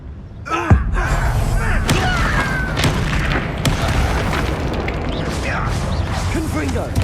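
Spell blasts from Confringo and Bombarda in the Hogwarts Legacy video game, a series of booming impacts and mechanical thuds amid game effects, with a voice speaking over the action.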